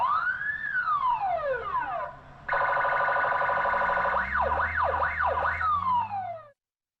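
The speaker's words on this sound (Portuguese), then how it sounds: "E essa sirene, ela é bastante alta." A loud electronic municipal guard vehicle siren cycles through sweeping wails, a rapid warble and a fast yelp, then cuts off abruptly.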